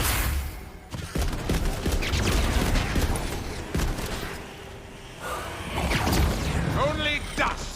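Single assault-rifle shots fired one at a time in the fantasy shooter Tiny Tina's Wonderlands, sharp broadband bursts spaced irregularly over busy game effects and music, with a voice talking partway through.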